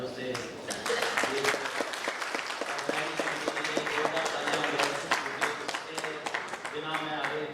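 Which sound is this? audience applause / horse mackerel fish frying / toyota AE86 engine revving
audience applause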